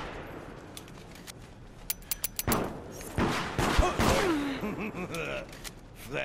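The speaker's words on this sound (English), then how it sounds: "I'm just shooting at the ground." Rapid gunfire in the Deceit multiplayer horror game, with a quick string of sharp shots aimed at the ground, followed by heavier bursts and clatter while players shout and talk over it.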